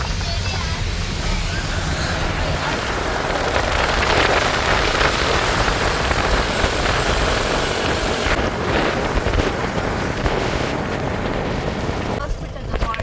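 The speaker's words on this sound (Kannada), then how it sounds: "ಮಳೆ ಬರ್ತಾ ಇದೆ" Rain pours steadily in Munnar during a ride, a dense continuous wash with wind buffeting the microphone and a voice speaking over it.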